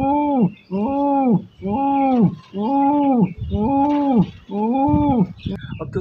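A voice imitates a female pigeon's call: six drawn-out, hooting coos in a slow, even rhythm, close and fairly loud.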